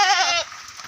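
A goat on a Thai mixed farm raised for sale gives one short, close bleat lasting under half a second, then quiet.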